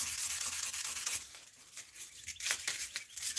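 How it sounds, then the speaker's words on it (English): Quiet, steady back-and-forth rasping of hand sanding a knife blade close up, in uneven strokes with no talking. "Doesn't matter if you're sitting or you're standing, sanding is sanding."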